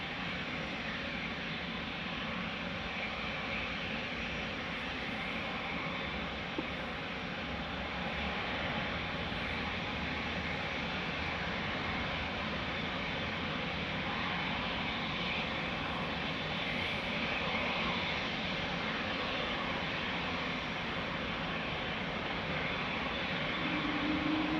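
Air India aircraft departing Amsterdam Schiphol, a steady broadband engine roar at moderate distance that holds for the whole stretch and swells slightly toward the end, with no voices.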